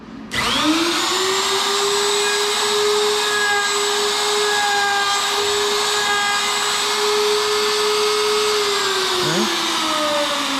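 A router spins up and cuts into a wooden coffee table top in a loud, steady high-pitched whine lasting about nine seconds, then winds down at the end.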